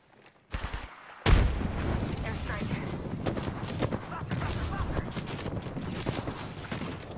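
A frag grenade bursts with a heavy boom in the Apex Legends game, then a dense run of rapid gunfire and crackling shots carries on at close range, with a voice talking over parts of it.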